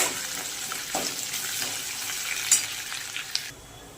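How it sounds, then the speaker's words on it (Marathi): Green chili thecha sautés in a pan with a bright, continuous frying sizzle and a few scraping stirs and clinks, close and moderately loud, before dropping away near the end. "हिरव्या मिरच्याचा ठेचा मस्त असं परतून घ्यायचं आहे दोन मिनिट"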